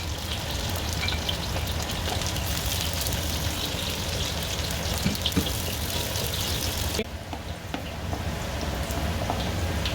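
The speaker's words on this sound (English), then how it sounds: "Add in our garlic herbs, nicely brown it a bit, and add the onions." Garlic, herbs, onions and green chilies fry in cooking oil for homestyle kuey teow goreng, a steady close crackling sizzle that runs throughout, softening briefly partway before resuming, with no voices.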